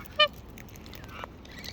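A pet bird gives a single sharp, honking call near the start, loud and close, followed by faint scattered chirps and rustles in a quiet room.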